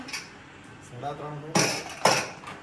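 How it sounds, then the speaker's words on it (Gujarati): Dishes, pots and pans being scrubbed by hand, with a low scraping rub and then two sharp clattering knocks of metal or crockery close by, while a voice talks over it. "અહીંયા વાસણ જ ઘસે છે"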